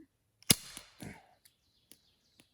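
A BB gun fired outdoors at a camp in the wilderness, one sharp close crack followed by fainter snaps and small impacts in an otherwise quiet setting.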